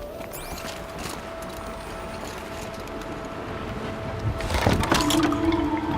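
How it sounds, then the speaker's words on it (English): Water filling a basin in the game Horizon Zero Dawn: Frozen Wilds, a steady rushing pour with mechanical rumbling that swells louder near the end, no one talking. "Looks like it needs to fill up with water before I can cross."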